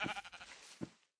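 Sheep bleat in Minecraft, two short nasal calls a moment apart, close and clear with nothing else around them.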